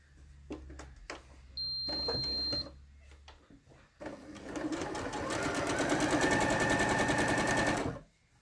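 Sewing machine stitching binding on a V neckline, starting with a few short stitches and clicks, then running in a steady, close whir for about four seconds before stopping.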